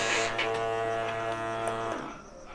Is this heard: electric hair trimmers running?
yes